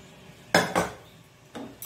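A tawa pan is set down on the stove for frying masala, with two quick metallic clanks close together followed by a softer knock, near and fairly loud.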